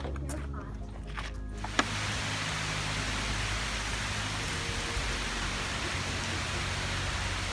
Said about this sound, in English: Rain slowing down.